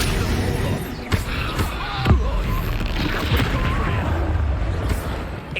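A spell blast from the Hogwarts Legacy game, set amid continuous battle noise, with several sharp booming hits, the strongest around the middle, over a dense rumbling background.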